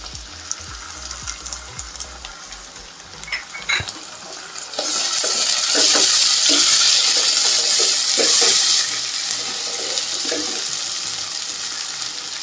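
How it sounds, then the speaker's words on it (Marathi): Ginger-garlic paste sautés in a pan as a spatula stirs with scraping clicks, then a loud burst of sizzling takes over when tomato puree goes in, a strong, close hiss that settles slightly but continues. "आणि आलं लसणाची पेस्ट तरी थोडी परतून घेते आणि याच्यामध्ये ही टोमॅटोची पुरी आहे ती घालते"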